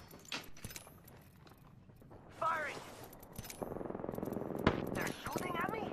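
Gunfire in a tactical shooter video game, a few sharp shots scattered across a busy mix of game effects, with people talking over it.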